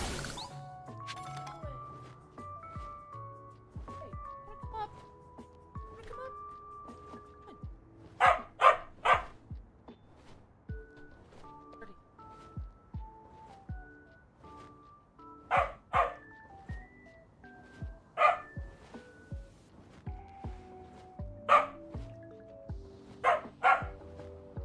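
A dog barks in short, sharp clusters that recur every few seconds over a quiet melodic game-music background.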